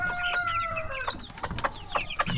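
Young broiler chickens, nearly two weeks old and panting, packed into a crowded cage, cluck and call continuously at close range. The calls come in overlapping bursts and short cries, with no talk.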